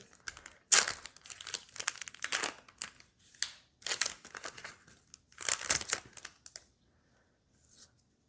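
Disney Lorcana trading card booster pack wrappers being torn open and crinkled, close and crisp, in irregular bursts of crackling foil with short pauses between.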